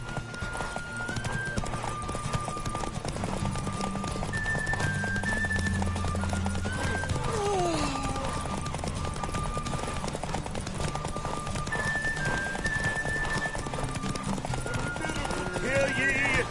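Horse hooves galloping in The Witcher 3, a steady clip-clop running under game music and narration, with a horse whinny and a voice announcing the derby result.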